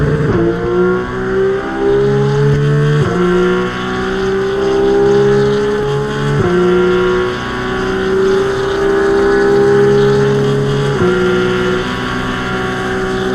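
A race car engine in Assetto Corsa Evo screams loudly, climbing in pitch through each gear and dropping sharply at the shifts, with four upshifts across a sustained run.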